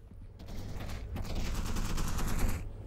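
Rapid turret gunfire in the horror game Content Warning, a dense sustained burst of shots that swells over a few seconds and then cuts off, loud and close.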